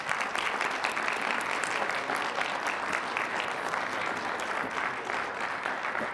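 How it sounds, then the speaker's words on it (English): Audience at a city council meeting applauding, a steady, even round of clapping from many people throughout. "Let's give everyone a round of applause."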